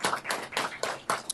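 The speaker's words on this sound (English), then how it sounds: "Can we give a round of applause for our Teachers of the Year, our Golden Bell winners," Audience applause at a State Board of Education meeting, a short, faint patter of a few people clapping in loose bursts, with no voices.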